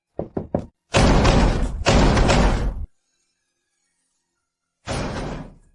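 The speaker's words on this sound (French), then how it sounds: "on dirait qu'on enfonce une porte en bas" Heavy repeated blows against a door downstairs as it is forced open: a few quick knocks, then two long loud crashing bursts, a pause, and another loud burst.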